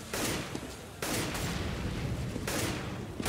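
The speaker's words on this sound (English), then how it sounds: "Grenade dropped on the head of Fur." A grenade blasts in a Counter-Strike match at the ESL One Katowice 2015 quarterfinal, with loud broadband bursts near the start, at one second and again at two and a half seconds over continuous dense battle noise.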